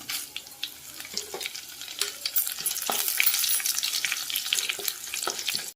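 Cumin, mustard seeds, urad dal and dried red chillies crackle in hot oil for a tempering, with busy close popping and sizzling that swells in the middle, with no talk.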